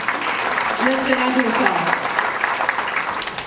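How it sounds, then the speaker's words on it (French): Audience applause at a volunteers' evening, a moderate wash of clapping heard under a speaker's voice that carries on over it. "on applaudit notre firme"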